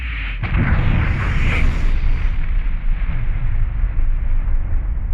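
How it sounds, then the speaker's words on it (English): A deep explosion sound effect depicting the Big Bang bursts with a sharp onset, then rolls on as a loud, sustained rumble that slowly fades, with no speech. "it makes great videos to show it with the sound of the explosion"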